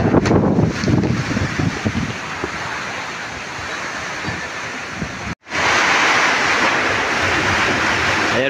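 Typhoon Tino batters an island with strong wind and rain, a loud continuous roaring rush broken by gusts and a brief dropout midway before the roar returns at full strength.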